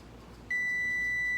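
A kitchen timer signals baked egg cupcakes are done with a sudden, sustained electronic beep starting partway in and holding loud and steady to the end.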